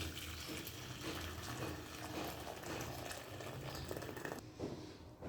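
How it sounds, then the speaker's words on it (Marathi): Whey water drains from milk curdled with lemon juice while homemade paneer is being made, a faint, steady trickling and splashing of liquid with no voices. "पाणी काढून घ्यायचं"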